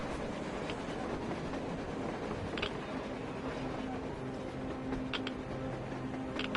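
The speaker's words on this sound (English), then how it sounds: "A train! A damn train on the surface!" A train rolls along with a steady rumble and rhythmic clickety-clack, fairly close and continuous, with faint voices in the background.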